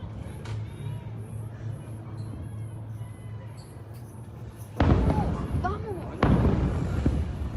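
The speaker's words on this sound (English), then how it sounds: "Those are not fireworks. Those are explosions and fires at the bottom." Explosions during a military attack in Venezuela, two sudden loud booms with rumbling tails after a stretch of quieter distant ambience and faint sounds.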